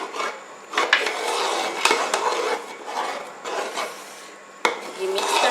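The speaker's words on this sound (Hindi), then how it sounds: "ये मिक्स करते हैं इसे अच्छी तरह से।" A spoon scrapes and stirs thick kheer with condensed milk in a metal pot, giving steady rasping, rubbing strokes with brief knocks against the pot, close up and with no talk.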